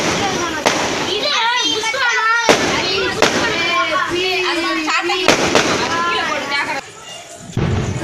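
Diwali firecrackers burst in a home courtyard celebration. Several sharp cracks and pops land at intervals beneath continuous close talking and children's voices.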